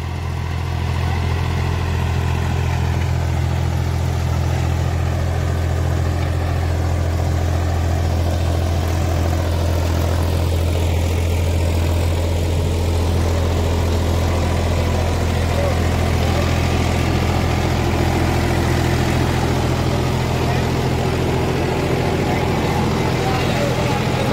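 A three-cylinder 40 HP 405 tractor works a 7-foot rotavator in a field, giving a steady, heavy diesel drone with a constant churning underneath, close and continuous throughout.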